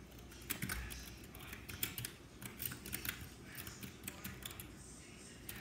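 Keyboard typing, rapid irregular key clicks at close range, steady throughout with no talking.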